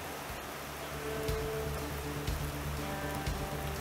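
Steady rain drumming on a newly installed steel roof of a building in Alaska, a dense continuous patter with occasional louder drips, heard alone without voices.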